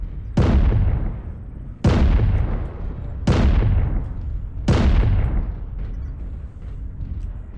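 Artillery strike explosions in the video game MechWarrior Online, four loud booming blasts about a second and a half apart, each a sharp crack decaying into a long rumbling tail, with no talking over them.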